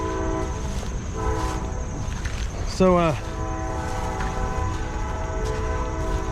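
A train horn sounds in one loud, short blast partway through, over a constant rumble of rail traffic and city noise outdoors near City Creek, with a faint voice at the start.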